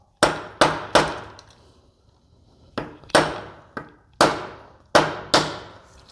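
Metal hammer blows striking a motorcycle front sprocket nut to deform its lip, sharp ringing clangs in two bursts of three and five strikes, loud and close with metallic decay after each hit.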